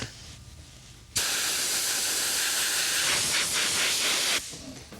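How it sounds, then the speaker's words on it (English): Compressed air blasts across car upholstery during interior cosmetic work, a loud, steady broadband hiss lasting about three seconds after a quiet start, then cutting off sharply. "Why don't we blow that off with compressed air and see what happens?"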